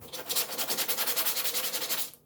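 Disintegrating old foam scrubbed off a Buick Grand National headliner board, a steady rapid back-and-forth rasping, loud and close, about a dozen even strokes before it stops.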